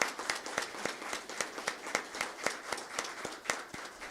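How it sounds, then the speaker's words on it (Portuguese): Sparse, distinct handclaps at a Brazilian public prosecutors' ceremony, a fairly quiet and roughly steady series of sharp slaps from a small number of hands rather than a full crowd. "Uma salva de palmas."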